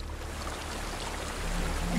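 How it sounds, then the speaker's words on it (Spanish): Water flows steadily in the video game Hellblade: Senua's Sacrifice, a continuous soft rushing stream heard alone, swelling slightly toward the end. "escuchar el ruido del agua"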